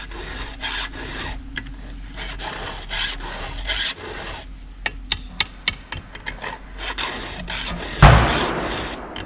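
A hand file sharpening a chainsaw chain, rasping in short repeated strokes with small metallic clicks, close up, ending in a louder scrape and rattle near the end; no talking.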